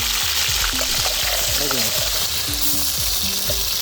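Crushed shallots and garlic hit hot oil for a village-style fish curry, making a loud, continuous close-up frying hiss with faint stirring and soft tonal music underneath.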